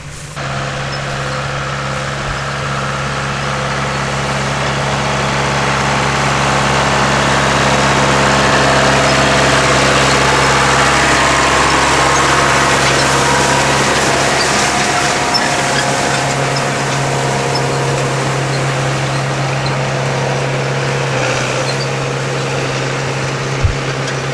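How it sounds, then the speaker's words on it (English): A tractor engine runs steadily throughout with a deep hum while raking hay in a field, rising slightly in the middle and easing off toward the end; no talking. "That was my dad, Steve, on the tractor."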